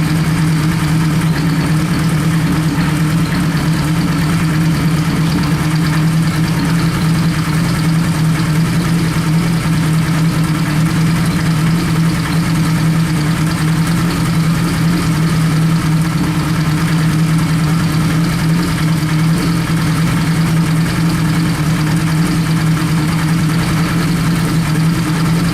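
A Kawasaki Z1A motorcycle engine idles steadily during carburetor idle-mixture adjustment, a loud, even, close-up mechanical drone that holds a constant rumble throughout with no voices.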